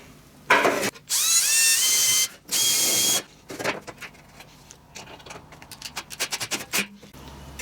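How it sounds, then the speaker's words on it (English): A power drill pre-drilling screw holes in aluminium sheet on a home-built sand muller, two loud sustained whining bursts followed by clattering, rattling handling of the metal. "I'm going to pre-drill for the screws just to be sure."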